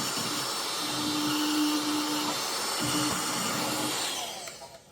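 A handheld vacuum cleaner runs steadily for about four seconds, sucking up brushed-out dirt during a stadium clean-up, with a droning whine that winds down and fades near the end.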